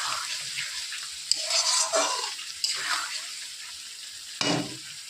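Short bursts of sizzling and bubbling as a splash of water hits spice paste frying in a pan for fish curry, close and fairly quiet, with light stirring scrapes between the bursts.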